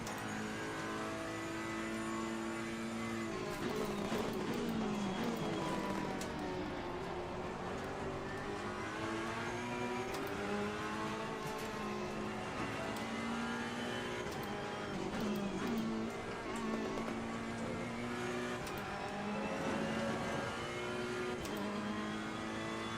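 A race car engine in Assetto Corsa Competizione at Kyalami screams through repeated rising and falling gear changes, loud and close, with sharp downshift pops between long high-revving pulls.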